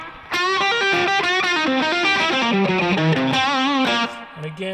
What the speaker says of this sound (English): tones all the way up right now, but good bluesy bridge pickup sound